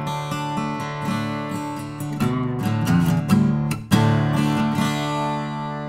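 PRS SE model 40 acoustic guitar with ovangkol back and sides, strummed and picked up close; warm ringing chords with several sharper strums and a brief pause before a full strum near the end, no voices.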